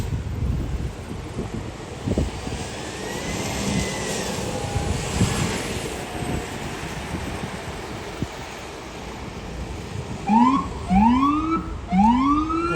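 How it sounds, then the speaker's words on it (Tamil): Distant traffic rumble after a bus collision near Arizona State University, then a loud ambulance siren wails up in repeated rising sweeps as it nears during the last few seconds. "ஆம்புலன்ஸ்"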